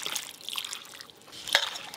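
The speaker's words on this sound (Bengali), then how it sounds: "জল" Water is poured into paratha dough in a short, soft trickle, close and fairly quiet, ending with a small splash.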